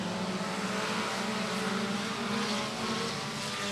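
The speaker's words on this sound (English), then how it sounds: "So the 4 cylinders race their way as Josh Payne's going to work to the outside" Four-cylinder race cars roar around the oval at Beckley Motor Speedway during a feature race, a steady loud engine drone filling the whole stretch without a break.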